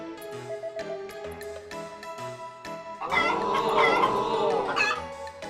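Synthetic chicken clucks from a cockfight in Harvest Moon: Back to Nature burst out over a steady game music loop, a busy cluster of squawky calls lasting a couple of seconds before fading.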